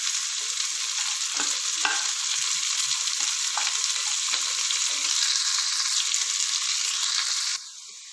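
Onions frying in oil with a large piece of cinnamon for vegetable pulao give a strong, steady close-up sizzle with occasional stirring knocks, and the sound drops abruptly near the end.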